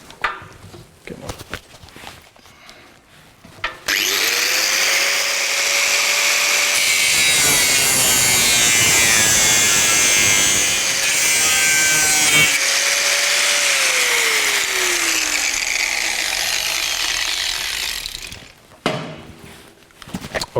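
A power tool cuts through a piece of sheet metal in a welding workshop, a loud, continuous grinding and screeching that holds for about fifteen seconds, its pitch rising and then falling, with quieter handling noises before and after.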